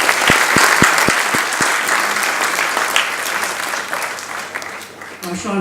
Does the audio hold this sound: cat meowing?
no